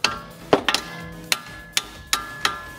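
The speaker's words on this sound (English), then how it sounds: "Okay, hammer it out." Sharp metallic hammer strikes on a strut bolt of a Chevrolet Cruze front strut ring out at uneven intervals, about seven blows, close and fairly loud with a faint ringing tone between hits.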